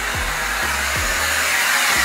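An Aqua-Air wet/dry vacuum runs at a steady, loud, continuous whine with a few low thumps underneath and no voices.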